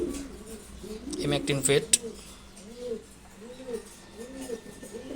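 Pet pigeons coo in a series of low, rising-and-falling phrases close by, while someone talks over the first part.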